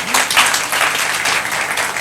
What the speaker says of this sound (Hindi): मैं जरूर चाहूंगा एक जोरदार ताली होनी चाहिए